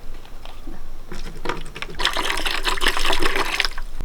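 Water is poured into a container, a close splashing and gurgling that builds in strength over a few seconds.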